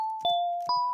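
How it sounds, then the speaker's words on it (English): A simple synthesized bell sound plays two clean, bright struck tones that ring out and sustain, close and clear with nothing else around them. "what I've loaded up here is this sort of basic bells sound"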